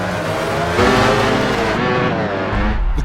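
Racing engines roar loudly and continuously, a dense mix of several motors with rising revs and a surge in the middle, as if race cars or bikes blast past in a crowded racing scene.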